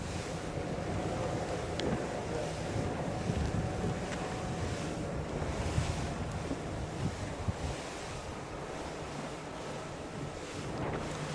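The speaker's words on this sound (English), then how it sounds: "a nice evening breeze now for this race" Steady evening breeze rushes over open water at a TP52 sailing race off Newport, Rhode Island, with constant wind noise buffeting the microphone, surf washing alongside, and faint boat sounds, no talk.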